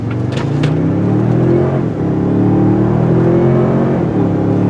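A 2023 Toyota Sequoia Platinum Hybrid's i-Force powertrain pulls hard under acceleration, a steady loud engine drone with rising harmonics, close and continuous, no talking over it.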